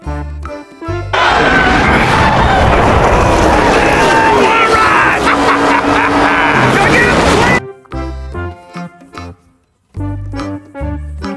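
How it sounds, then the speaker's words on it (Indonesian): Loud toy sound effect from a Lightning McQueen race car toy, several seconds of dense, roaring, crowd-like noise close up, followed by a brief choppy burst of voice-like sound. "Mobil McQueen."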